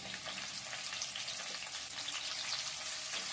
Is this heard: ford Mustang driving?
no